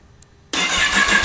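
A Kawasaki ZX-10R superbike engine starts after a brief near-silence, catching abruptly and settling straight into a loud, steady, close-up rumbling idle.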